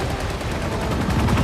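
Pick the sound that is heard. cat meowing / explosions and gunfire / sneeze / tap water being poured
explosions and gunfire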